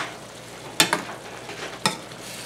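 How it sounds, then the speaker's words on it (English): A spoon stirring food frying in a pan, with a steady sizzle underneath and a few sharp scrapes against the pan bottom, close and clear. "Give it another good stir."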